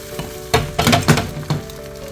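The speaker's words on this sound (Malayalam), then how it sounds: "അപ്പം നമ്മുടെ മുട്ടയുടെ ബാറ്റർ ഇതിലങ്ങ് ഒഴിച്ചു കൊടുക്കാം" Egg batter poured into a hot oiled pan hisses in a few loud, separate bursts of sizzle with clinks of utensils, and there is no talking.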